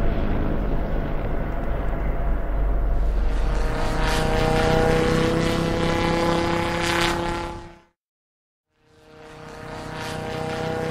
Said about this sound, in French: Un grand hydravion F-5 vole tranquillement dans le ciel.